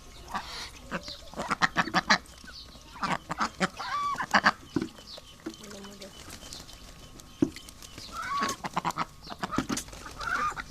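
Ducks in a backyard pen honk and quack repeatedly, close by, in scattered bursts while someone talks over them on a cold morning.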